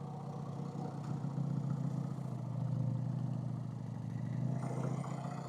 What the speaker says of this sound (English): O'Reilly's don't care about no loud Harley Davidson.